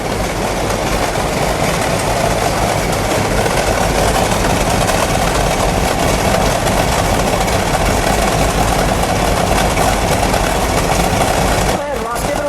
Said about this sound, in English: Go ahead, Ross, give it a rev.